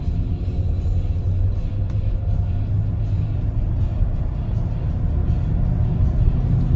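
A Toyota Camry 2.4 Q VVT-i accelerates through its gears on a main road, heard from inside the cabin as a steady low engine rumble and road noise that holds at one level throughout.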